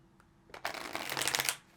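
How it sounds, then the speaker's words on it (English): A deck of tarot cards riffled and shuffled close by, a quick flutter of snapping cards building to a dense burst, then stopping. "let's get one more shuffle"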